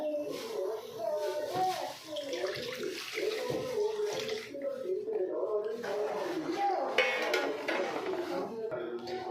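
Water is poured into a pan of fried masala while brinjal sambar is cooked, a continuous splashing, gurgling stream lasting several seconds under a voice talking.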